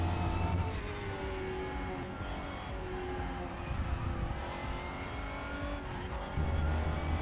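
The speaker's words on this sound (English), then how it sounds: "Just warming up the tyres." Race car engine in the RaceRoom sim racing game, a steady loud drone with shifting harmonic tones and faint tyre squeal as the tyres are warmed up, running continuously without talk.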